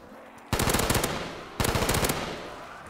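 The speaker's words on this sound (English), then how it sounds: "such a satisfying sound of this gun" A gun in Call of Duty Black Ops 3 Zombies fires two loud, close bursts of rapid automatic shots, each lasting about half a second, separated by a short pause.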